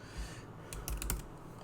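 Keys clatter on a computer keyboard as code is typed, a few quick bursts of clicks close by in an otherwise quiet room.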